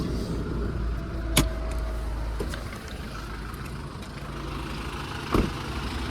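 A Kia Sorento 2.5 diesel engine runs under the open hood with a steady, even hum, broken by two sharp clicks, one early and one near the end.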